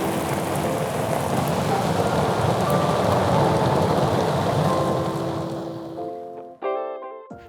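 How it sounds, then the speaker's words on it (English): Heavy rain pours down steadily during a thunderstorm beside a carp fishing lake, a dense, loud hiss of drops that fades out near the end and gives way to other tonal sounds. "in between the epic thunderstorms and downpours that we're getting"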